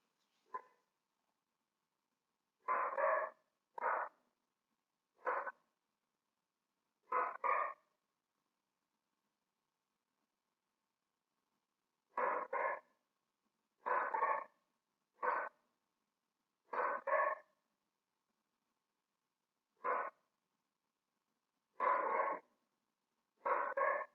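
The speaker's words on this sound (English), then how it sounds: "what's wrong with this dog?" A dog barks in short separate bursts, some single and some doubled, with long quiet gaps between them; the barks are fairly faint and there is no other sound.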